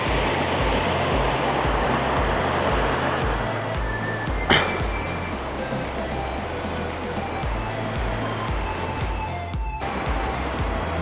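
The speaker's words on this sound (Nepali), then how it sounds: "लभली झरना छ" The Tangring waterfall in Manang, Nepal, roars steadily nearby, a loud, continuous rushing wash of falling water that never lets up.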